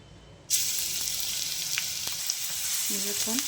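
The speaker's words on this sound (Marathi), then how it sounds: "कढईमध्ये तेल घालून घेऊया तर मी इथे हे चार ते पाच चमचे तेल घातलेलं आहे आणि यावर आपण लसूण घालूया" Garlic hits four to five spoonfuls of hot oil in a kadhai and bursts into a loud, steady sizzle that keeps frying close up, with a few light stirring scrapes near the end.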